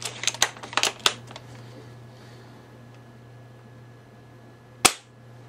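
Airsoft UTG GEN5 sniper rifle shots snap sharply in a quick cluster of clicks and cracks at the start, then a quiet steady hum before one more loud single shot near the end.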